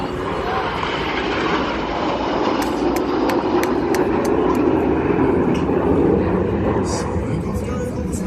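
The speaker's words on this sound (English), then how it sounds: "In from the left-hand side, it's Concorde." A Concorde passes at the New York Airshow, a loud, continuous jet roar that swells slightly as it goes by, with a commentator speaking over it.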